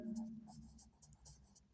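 Marker or pen strokes on a board or paper while a maths solution is written out, soft scratchy bursts repeating irregularly at close range under a low, murmured voice.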